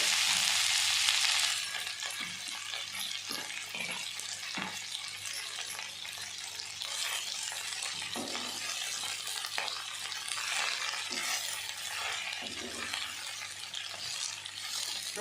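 Fenugreek leaves frying and stirred in a pan, a steady close sizzle with scraping strokes of the spatula running throughout, no voices.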